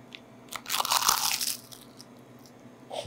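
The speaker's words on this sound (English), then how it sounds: "crunchy seaweed, that means you did a good job." A single crisp bite into a seaweed-wrapped sushi roll gives a loud, close crunch that crackles for about a second, then fades into a quiet room with small mouth sounds.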